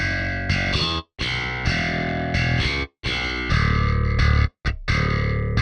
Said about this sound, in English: Here's the bass that we're using. It's called Gen Bass.